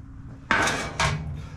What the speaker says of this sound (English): let me get my carburetor cleaning pan